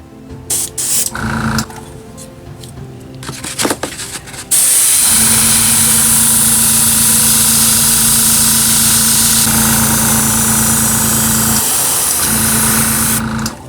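Airbrush spraying thin, runny paint at 18 to 20 psi onto a Star Wars cantina diorama, a loud steady hiss with a faint hum that runs unbroken for about nine seconds after some short spurts and clicks.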